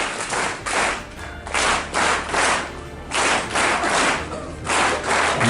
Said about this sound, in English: I want you to clap 4 claps for yourself